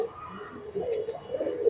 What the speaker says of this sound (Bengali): এই মুহূর্তে ভাইয়ের হাতে আরো একটা কবুতর দেখতে পাচ্ছি আমরা।